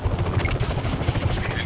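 Helicopter rotor thumping in the Just Cause 3 video game, a rapid, steady chop with engine rumble at moderate volume throughout the short stretch.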